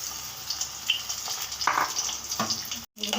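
Malabar spinach leaves dipped in batter fry in hot oil with a steady crackling sizzle, close and fairly loud, with small pops and a brief cut near the end.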